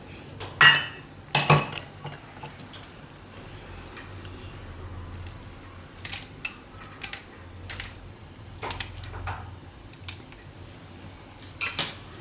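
Garlic and green chilies crushed by hand in a home kitchen for a Gujarati mango and bitter gourd curry: scattered sharp knocks and clinks, some in quick pairs, over a low quiet room hum, with no talking.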